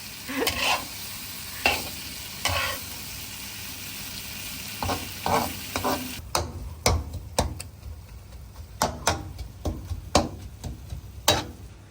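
Spaghetti with sausage is stir-fried in a pan, steady sizzling under repeated scraping and tapping of a utensil against the pan, close up, with sharp clacks coming in irregular bursts as the food is tossed.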